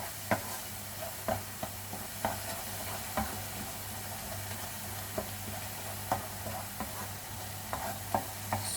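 A cinnamon-spiced apple filling stirred in a pan, with a soft bubbling hiss under a low steady hum and regular light taps and scrapes of a spoon, fairly quiet and close.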